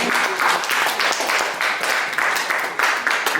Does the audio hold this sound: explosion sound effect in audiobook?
no